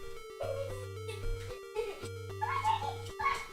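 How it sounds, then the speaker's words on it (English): Dog whimpers and soft yips from a stream overlay sound over a droning hum, brief and moderately loud, with a voice speaking at points. "Oh, I hear puppies."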